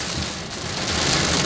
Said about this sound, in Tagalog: Ito umuulan guys.